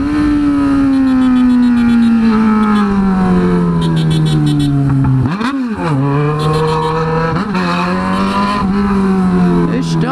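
A Honda Hornet motorcycle engine roars loud and close, holding a high revving drone that dips, swells and climbs again as it rides with a passenger, wind rush throughout.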